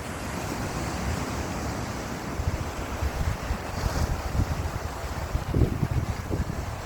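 Sea waves washing onto a beach in Sri Lanka, a continuous low rumble of surf mixed with wind buffeting the microphone, with no voices.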